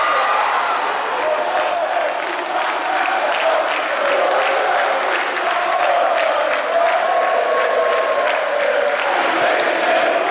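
Vasco da Gama supporters roar and cheer continuously at São Januário stadium during a match against Atlético Mineiro, a dense, loud crowd wash with clapping mixed in and a voice speaking over it.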